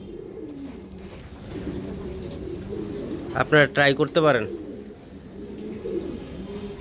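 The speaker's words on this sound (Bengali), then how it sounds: "এটা বড় বিডারের কবুতর" A large pigeon from a breeder's loft gives a loud, close burst of rhythmic cooing in the middle, while someone talks over quieter background bird sounds before and after.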